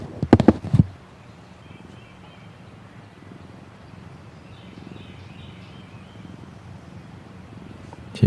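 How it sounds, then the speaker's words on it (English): A pet cat purring softly in a steady low rumble after a brief loud knock at the start, with faint chirps from birds in the background. "You can hear the purring."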